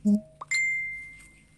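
Bright notification bell ding rings out clearly after a short low thump, its tone holding and fading slowly over more than a second, standing alone with no talk.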